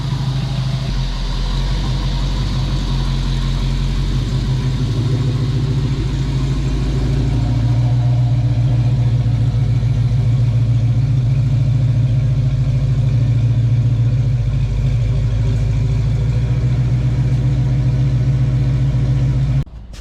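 A 1968 Ford Mustang fastback with a Toploader 4-speed idles steadily and close by, a deep continuous engine rumble holding for about twenty seconds, then cutting off abruptly at the end.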